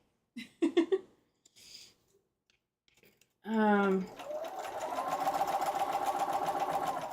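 A sewing machine stitches curves on a quilting project. A few brief words and clicks come first, then the motor starts loudly and settles into a fast, steady, rhythmic whir that runs to the end.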